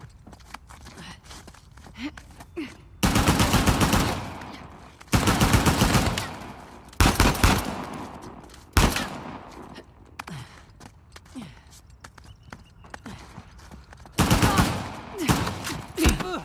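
Gunfire in Uncharted: The Lost Legacy, loud automatic bursts of about a second each repeating several times, close and harsh, separated by quieter stretches of movement and occasional voices.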